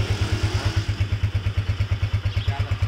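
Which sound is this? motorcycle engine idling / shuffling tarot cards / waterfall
motorcycle engine idling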